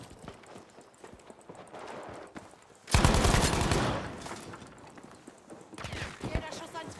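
Gunfire in the video game Battlefield 5, with a loud dense burst of shots erupting near the middle and a second burst toward the end, over busy background game noise and voices.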